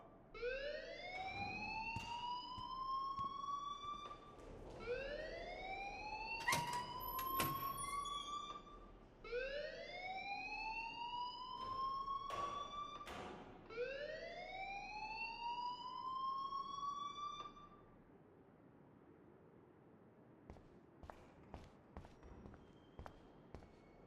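A wailing rising siren-like alarm rings repeatedly in a school building in the video game Life Is Strange, loud cycling whoops for about eighteen seconds before cutting off, followed by faint clicks.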